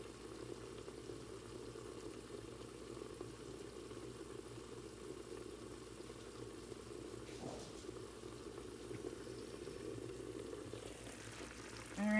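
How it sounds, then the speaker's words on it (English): Pierogies steam in water inside a covered skillet, a steady low bubbling hiss and simmer running continuously at a soft level, with a faint clink near the end. "definitely let them just steam for that first couple minutes"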